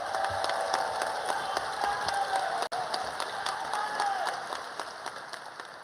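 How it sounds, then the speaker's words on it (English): A large audience at a medical school white coat ceremony gives sustained, even applause throughout, dense and fairly close, easing slightly toward the end. "Now we're going to give our C's a round of applause."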